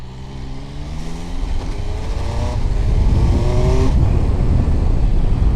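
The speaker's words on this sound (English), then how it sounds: "been having a little bit of a go on this Turismo Veloce with the smart clutch" An MV Agusta Turismo Veloce 800 Lusso with smart clutch riding on the road, engine note rising through the gears in loud, close revving pulls with a shift partway through, under steady wind noise.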